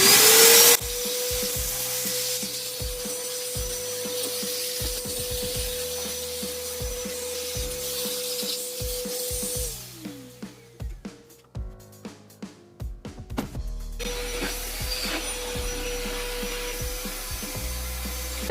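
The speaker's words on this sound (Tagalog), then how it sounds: "this is my vacuum cleaner with 3-in-1 function from PowerHouse" A PowerHouse 3-in-1 wet and dry portable vacuum cleaner runs with a loud, steady motor whine, then sputters and cuts out briefly before starting up again and droning on.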